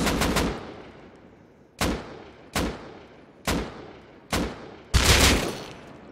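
Machine gun and turret fire in the Rust video game: an opening rapid burst, then five loud, evenly spaced single shots each with a decaying tail, the last one heavier, and no speech.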